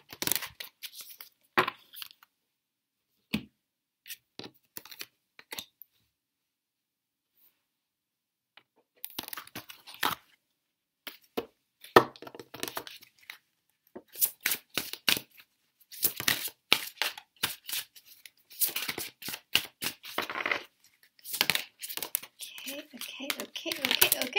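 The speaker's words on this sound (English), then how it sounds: "Let's shuffle out these Romance Angel Oracle cards" Soft flicking and riffling of oracle cards being shuffled in quick bursts, with a person talking in between.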